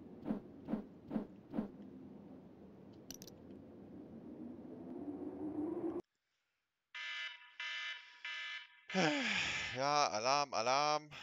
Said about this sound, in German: Alarm, Alarm.